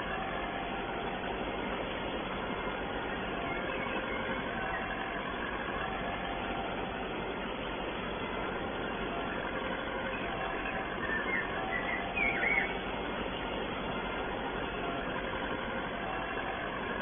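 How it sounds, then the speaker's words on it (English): A tractor engine runs steadily while pulling a power harrow across a spring wheat field, a continuous moderate mechanical drone and rumble without breaks, heard alone with no talk. "This tractor manages well with the power arrow on it."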